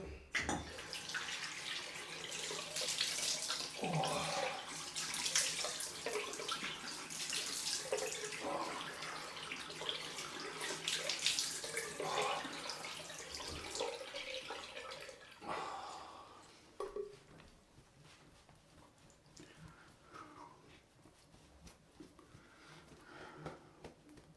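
Cold tap water runs steadily into a sink for a rinse after a wet shave, a close, continuous splashing hiss that softens and thins out over the last third.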